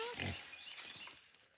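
Pigs grunting on a frozen farm on a cold morning, a few short low grunts up close at the start, then quieter snuffling under a voice greeting them.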